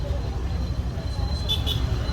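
Dense road traffic in Mysore, heard from aboard a KSRTC bus on the Gundlupete to Mysore run: a steady low rumble of engines and tyres with a brief higher hiss or horn-like tone near the end.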